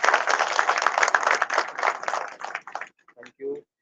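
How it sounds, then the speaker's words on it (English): A round of applause from an audience honouring an award winner during the valedictory session of an international conference, dense clapping for about three seconds, then thinning out to a few last claps before a voice speaks briefly. "Give her a big round of applause."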